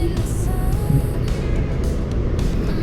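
Road traffic in Manila hums in a continuous low rumble from car engines, close and steady, with faint passing vehicles and no talk.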